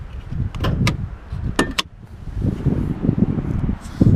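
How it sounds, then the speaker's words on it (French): Fuel flap being opened on a 1990 Alfa Romeo Spider, a few sharp metallic clicks and clacks close by, spaced apart over low handling rumble. "Je vous montre quand même comment on ouvre la trappe à essence et le coffre sur cette voiture."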